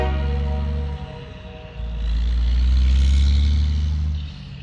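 An International wheeled backhoe drives away across soft ground, its diesel engine droning with a steady harmonic hum that swells to a louder revving surge midway, then eases back.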